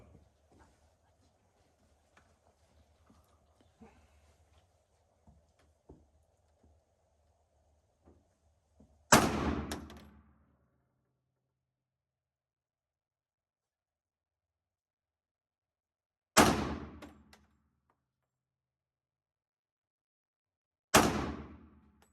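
Three shots from a Dan Wesson 1911 pistol at a range, each a sharp loud crack with a brief ringing tail, spaced several seconds apart after quiet handling noises.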